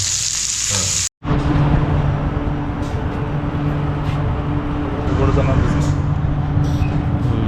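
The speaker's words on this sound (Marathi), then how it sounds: "एकदम चांगली फ्राय करून देणार तुम्हाला" Surmai fish sizzles steadily in an uncovered pan, a dense broadband frying hiss with a steady hum beneath, broken by one brief dropout near the start while a voice talks over it.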